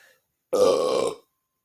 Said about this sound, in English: excuse me for the belch